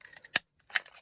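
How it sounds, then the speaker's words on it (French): Two sharp, crisp clicks about half a second apart, close and quiet, as a small round hand punch cuts through scrap paper. "je prends une petite perfo comme ça, ronde"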